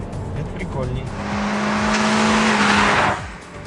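A 2008 Honda Accord revs in sport mode, the engine note rising to a sustained high pitch for a couple of seconds before dropping off, heard up close inside the car.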